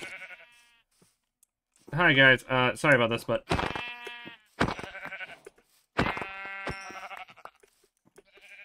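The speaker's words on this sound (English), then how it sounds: "Hello, sheep." Sheep in a modded Minecraft game bleat in several clear, wavering cries with pauses between them, while someone talks briefly at the start.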